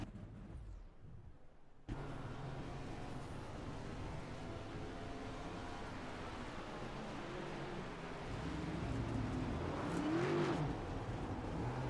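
A race car in the O.B. Builders Cup Series SUBLMTD 120 class revs hard at Circuit of the Americas, its engine roaring steadily and loudly after a quieter opening, then swelling a little louder toward the end.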